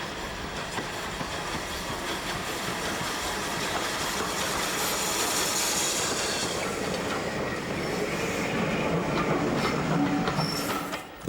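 Severn Valley Railway train at Kidderminster, a heritage line, rolling past with steady clickety-clack of wheels and some squealing, loud and continuous throughout before cutting off at the end.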